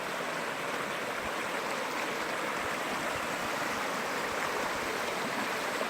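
A babbling brook in Colorado rushes steadily over rocks, a dense continuous wash of splashing and gurgling water heard close and fairly loud, with no voices.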